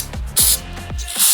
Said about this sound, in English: I'm going to go ahead and spray a little bit of